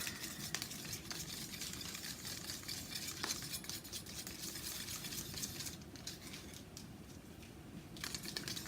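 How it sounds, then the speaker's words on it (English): Thick acrylic pouring paint stirred in a cup: a faint, steady scraping and churning that runs continuously without pauses. "Still pretty thick. I think I need to stir it more."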